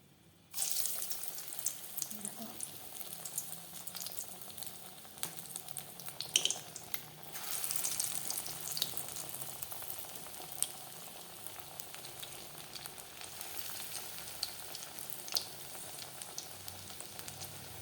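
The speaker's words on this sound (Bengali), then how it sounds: "এখন আমি ডালের পকোড়া ভাজবো, তোমাদের দেখিয়ে দিই।" Lentil pakoras frying in oil make a dense, close hiss that starts abruptly after a moment of quiet and continues evenly, with scattered small pops and clicks and no speech.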